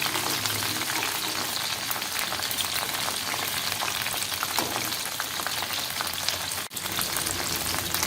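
Coated chicken drumsticks deep-fry in hot oil with a dense, even, close crackling sizzle that holds steady throughout, broken only by one faint click.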